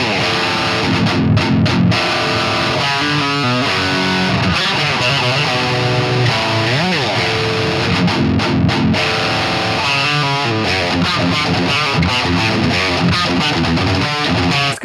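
Distorted electric guitar, an Epiphone SG, chugging through heavy chords with effects, loud and continuous, with short muted gaps between riffs.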